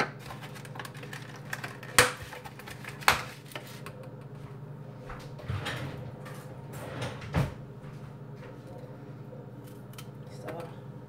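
A knife cuts up strawberries in a home kitchen during meal prep, with a few sharp chops and knocks against a board spaced over a low background hum, the loudest two early, followed by softer scraping and clicks.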